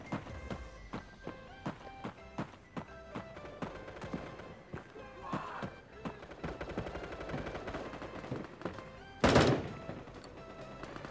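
Gunfire in the mobile shooter Bullet Force during a team deathmatch: rapid rhythmic bursts of automatic shots run through the clip with a loud blast near the end, set over game ambience and background music.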